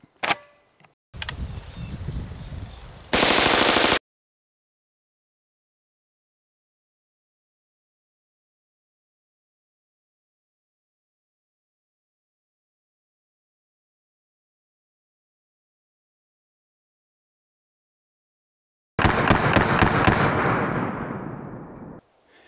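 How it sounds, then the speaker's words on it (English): Rapid bursts from a .40 caliber UMP submachine gun firing 155 grain hollow-point rounds into a bulletproof plate at an outdoor range, loud and dense at the start, then a long silence before another sustained burst near the end. "I have 155 grain hollow points here in this 40 caliber UMP. Gonna put 30 of them into the plate."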